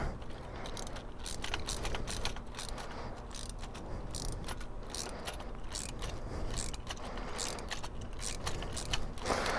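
Hand ratchet tightening bolts while mounting dirt bars, quiet repeated clicking of the pawl in short bursts against faint background noise, no talking.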